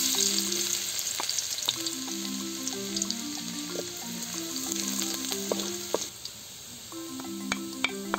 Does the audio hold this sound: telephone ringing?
no